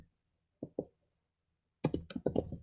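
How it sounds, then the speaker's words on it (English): Computer keyboard typing: two isolated key taps, then a quick burst of several clicking keystrokes close up in an otherwise quiet room, with no voices. "I'm going to type in"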